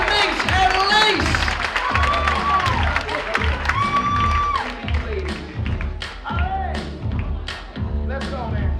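An audience applauds and cheers for a dancer, scattered claps and thumps mixing with voices and music, lively but uneven.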